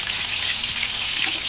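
Chicken kebab pieces fry in hot oil over a high flame, giving a dense, steady sizzle with crackling spatter, close and continuous.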